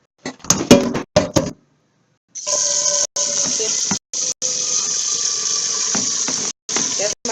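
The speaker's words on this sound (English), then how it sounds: "I'm going to boil the water for my noodles." Tap water gushes steadily into a noodle pot at a kitchen sink for boiling spaghetti, loud and close, broken by several brief cutoffs, after a few clattering knocks at the start.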